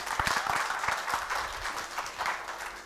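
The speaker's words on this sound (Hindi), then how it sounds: "आप लोगों के लिए एक बार जोरदार तालियां होनी चाहिए" An audience at a business seminar bursts into applause, a dense wash of many hands clapping that holds steady for a few seconds, with no talking over it.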